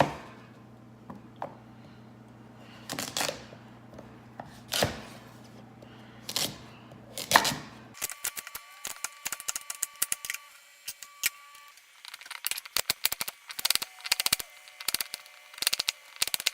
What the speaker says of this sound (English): I can just simply go in with my knife, cut it into strips